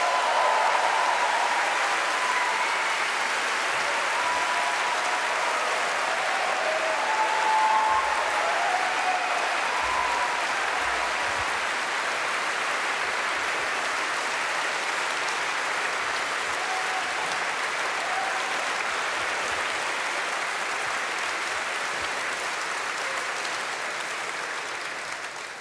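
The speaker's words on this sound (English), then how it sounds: "Please give him a warm hand, Frans Timmermans." Sustained applause from a large conference audience welcoming a speaker to the stage, a dense steady wash of clapping that holds for the whole stretch and eases slightly at the end, with no talking over it.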